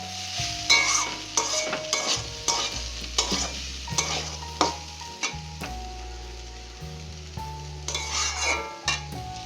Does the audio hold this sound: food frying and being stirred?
yes